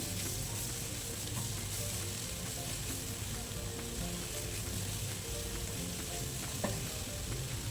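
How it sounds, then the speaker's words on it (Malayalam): Chopped banana pieces sauté in ghee for a banana rava snack, giving a constant, fairly quiet frying hiss with faint occasional scraping and no talking. "ഇനി ഇതിലേക്ക് നമുക്ക് പഴം നമ്മൾ അരിഞ്ഞ് വെച്ച പഴം അതിലേക്ക് ചേർത്ത് കൊടുക്കാം. എന്നിട്ട് നന്നായിട്ട് നമ്മളൊന്ന് വഴറ്റിയെടുക്കണം ആ നെയ്യിൽ തന്നെ"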